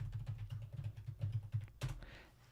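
Rapid keystrokes on a computer keyboard, typed in an irregular patter of clicks, close and fairly quiet, with a brief louder clack near the end and no talking.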